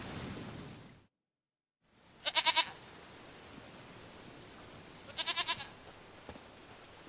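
A goat in The Witcher 3 gives two short, wavering bleats a few seconds apart over faint ambient background, after a brief moment of silence.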